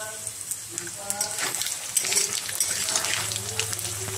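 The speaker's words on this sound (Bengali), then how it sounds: "শুকনো আগে আলুগুলা ভেজে নিচ্ছি" Potatoes sizzle steadily while frying in a pan for a Bengali-style fish and potato curry, with some watery bubbling and occasional clinks of kitchen handling.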